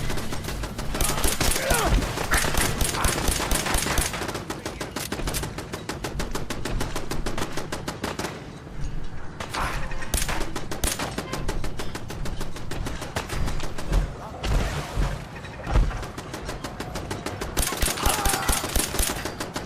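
Turret gunfire in Fallout 4, long bursts of rapid automatic shots with brief pauses between volleys, loud and close, with sharp cracks repeating throughout.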